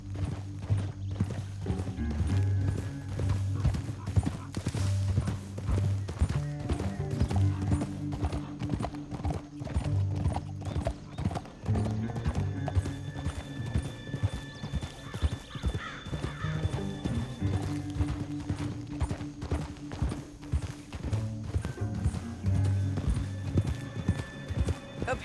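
Horses gallop in Red Dead Redemption 2, with a steady, dense clatter of hooves running throughout, close and loud, occasional whinnies and bird caws over it, and faint voices now and then.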